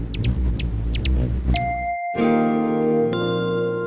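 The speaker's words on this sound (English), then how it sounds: "That's the sound of a hummingbird pollinating our world and making it a better place." A hummingbird sound effect for a logo: a few quick fluttery bursts, then bright ringing chime tones that sustain and layer before a final chime strike.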